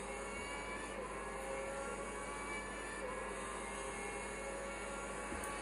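In the racing video game F1 2010, a Formula One car's engine drones at a high, steady pitch, holding a continuous flat whine near top speed, moderately loud and without speech.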